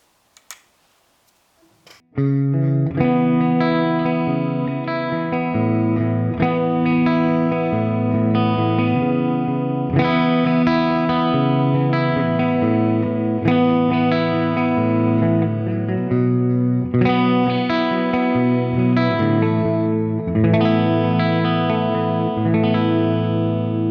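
Clean, wet electric guitar tone through an ML Sound Lab Fluff 2C Mesa Boogie Mark 2C+ amp plugin, with sustained ringing chords changing every few seconds and a thick ambient reverb tail, played alone after a brief click.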